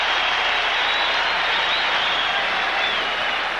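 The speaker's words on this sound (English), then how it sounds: "the crowd gives Kareem an ovation for his hustle" A basketball crowd at the 1982 NBA Finals Game 6 between the 76ers and Lakers gives a dense, steady ovation of applause that fills the arena evenly from start to finish.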